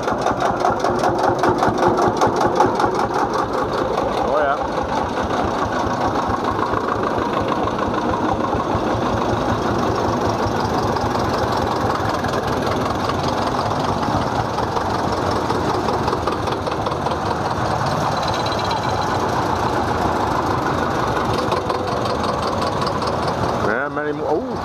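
An old Pampa farm tractor engine runs steadily and loudly with a continuous knocking chug, passing in a convoy of old farm tractors at Kamerik, Netherlands.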